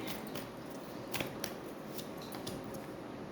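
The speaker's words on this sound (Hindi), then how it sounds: "ज़्यादा शफल किया मैंने ताकि कार्ड्स अच्छे से आए।" Playing cards are shuffled by hand in quick, close, crisp bursts of riffling and flicking, repeated several times in a short burst.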